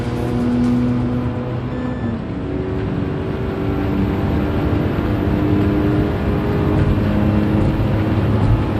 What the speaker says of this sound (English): So your engine note when you pass a wall or when another car's passing a wall will be rebounding off the wall.